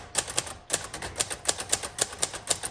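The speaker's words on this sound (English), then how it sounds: "let's go ahead and start typing" Typing on a 1956 Royal Quiet Deluxe manual typewriter with thin tombstone keys, a quick, slightly uneven run of crisp, close key strikes clacking one after another, with no talk over them.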